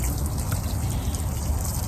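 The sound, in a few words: water from a garden hose pipe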